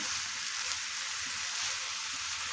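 Amla pickle being stirred with salt in a hot pan, giving a steady, close sizzle of frying with faint scraping underneath and no voices.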